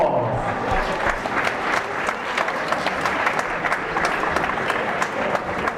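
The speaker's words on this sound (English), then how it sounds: "let's give these 2 wonderful boxers a big round of applause." A crowd at a boxing event applauds two boxers after a bout, steady dense clapping with scattered cheers filling the hall for about six seconds.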